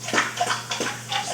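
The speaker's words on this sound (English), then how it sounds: "Now you can hear my dog. She's over there drinking her water loudly." An American Bulldog lapping water loudly from its bowl nearby, a quick rhythmic run of wet slurps and splashes with short pauses between them.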